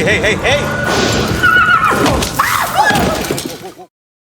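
A horse whinnies loudly in a film scene, a long shrill neigh with hoof clatter and thumps mixed in, heard close and up front before cutting off abruptly.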